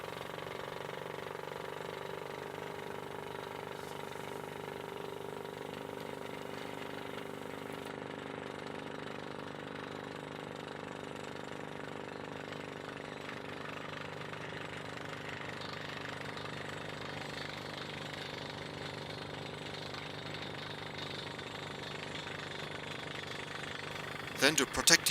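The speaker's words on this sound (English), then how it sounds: "You can see the drill bit starting to turn." A quarry drill rig starts a new blast hole, its drill bit beginning to turn with a continuous rumbling, grinding mechanical drone that holds steady throughout, and a few sharp knocks come near the end.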